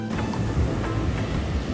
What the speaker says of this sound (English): The waves are kicking calmly.